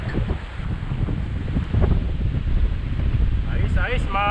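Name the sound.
wind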